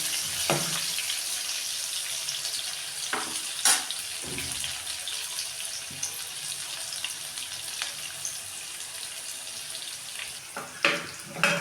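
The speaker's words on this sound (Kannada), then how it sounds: "ಒಂಥರ ಚೆನ್ನಾಗಿ ಫ್ರೈ ಆಗಿರ್ತದೆ" Bread frying with green chillies in a pan for palak bread upma, a steady close hiss of hot oil with occasional stirring scrapes and clinks.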